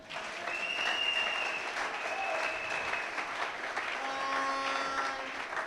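A church congregation applauds and cheers for Jesus during a Sunday service in Kananga, sustained clapping with scattered voices calling out, steady and moderately distant throughout.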